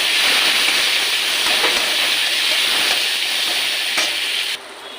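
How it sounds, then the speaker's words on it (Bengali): Chopped onion frying in hot oil with whole spices for a fish curry with pumpkin stems, a steady loud sizzle throughout with a few soft stirring knocks, cutting down sharply near the end; no talk. "ফোড়নটা ভাজতে ভাজতে এর মধ্যে আমি এবার পেঁয়াজ কাটাটা দিয়ে দেব। দিয়ে পেঁয়াজটাকেও একটুখানি ভালো করে ভেজে নেব।"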